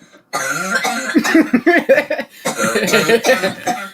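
A run of harsh, repeated coughing fits, loud and close, with throaty bursts that almost break into chuckling, nearly continuous for several seconds.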